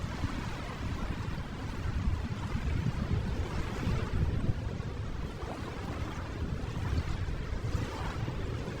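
Ocean waves wash in a steady, dense roar with gentle swells, mixed with wind noise and nothing else, at a constant moderate level.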